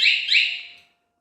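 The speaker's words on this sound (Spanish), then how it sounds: "Como podemos ver, está sonando la alarma y la motocicleta no enciende." Aftermarket alarm on a Bajaj Pulsar 200 FI fuel-injected motorcycle lets out two quick, shrill electronic chirps in close succession that fade away within a second.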